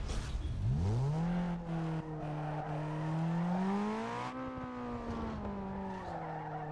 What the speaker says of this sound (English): The car sounds a little bit different.